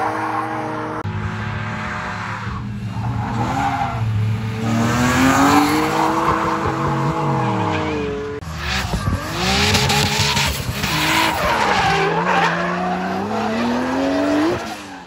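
A drift car with a 2JZ engine skids through continuous loud tire squeal, the engine revving and howling as it slides, with a brief break near the one-second mark and another around eight seconds before the screeching resumes.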